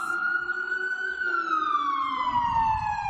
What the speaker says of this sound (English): let's just wait for this siren to go down